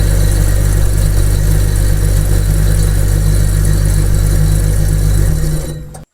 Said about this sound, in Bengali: তারপর মেশিন স্টার্ট করবেন।